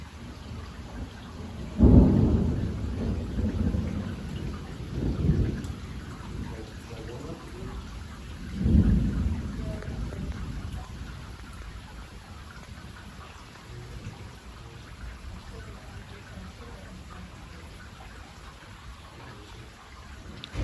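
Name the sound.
thunderstorm with heavy rain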